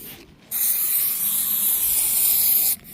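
Aerosol protective sealant hisses in a steady continuous spray onto a SAAB 9-3 convertible, starting abruptly and cutting off sharply after about two seconds, close and fairly loud with no talk.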